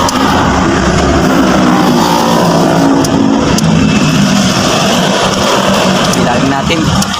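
A Ford Ranger's engine runs after a fuel filter replacement, a loud, continuous close-up rumble throughout, with people talking over it.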